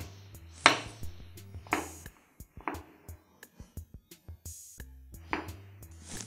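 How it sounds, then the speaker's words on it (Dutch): A knife slices champignon mushrooms on a cutting board while preparing sour shrimp soup, giving a series of crisp, close chopping taps in an irregular rhythm with short pauses between strokes. "Deze snijden we ook weer in velen."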